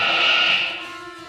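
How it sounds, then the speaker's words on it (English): Radio-drama effect of a fast-moving train: a steady whistle-like tone over a rushing rumble, loud at first and then fading slightly, with no talk. "There's the train. Traveling fast, all right."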